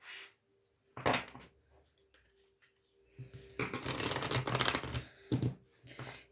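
Tarot cards being shuffled by hand in bursts, a brief riffle early on and then a longer, louder run of papery flicking and slapping, alone with no talk.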